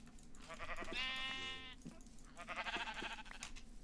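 A sheep in the video game Minecraft bleats twice, two distinct wavering calls about a second long each, faint and clear against a quiet background.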